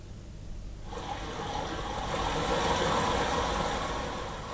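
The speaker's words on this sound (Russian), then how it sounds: "Или, например, звук дождя." A Roland E-X50 synthesizer plays its rain sound effect: a broad watery hiss that begins abruptly about a second in and swells into a steady, moderately loud wash of splashing noise.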